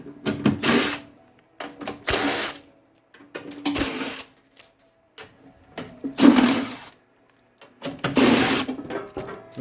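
Power tool spinning out 10mm bolts from a two-stage snowblower belly pan in about five short bursts, each a loud whirring buzz separated by quiet gaps, close by with no speech.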